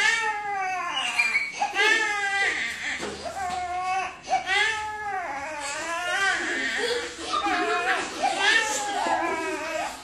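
A voice imitates a wailing baby, rising and falling in repeated sobbing cries, loud and close.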